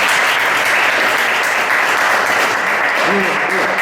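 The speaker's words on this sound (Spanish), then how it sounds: "Yo creo que se merece el aplauso" An audience at a talk claps loudly and continuously, a dense burst of applause filling the room with a voice briefly heard toward the end.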